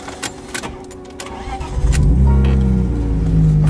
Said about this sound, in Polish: możecie odpalać samochód